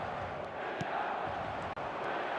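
A football video game stadium crowd roars and cheers in a steady, dense wash of noise, fairly faint and continuous, with no clear individual voices.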